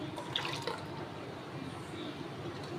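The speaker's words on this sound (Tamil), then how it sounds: "இதில் கால் டம்ளர் தண்ணி கலக்கி ஆட் பண்ணிக்கலாம்" A quarter tumbler of water trickles and splashes into a bowl of dosa batter in a short, steady pour, close by, with faint dripping and no one speaking.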